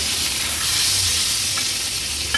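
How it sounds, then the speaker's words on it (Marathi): Stuffed mackerel (bangda), Agri-Koli style, fries in a pan of oil over a low-to-medium flame, giving a steady, close, continuous sizzle with a few faint crackles and no talk. "पुन्हा मागची बाजू पण दोन तीन मिनिटांसाठी लो टू मीडियम फ्लेमवर फ्राय करायचे"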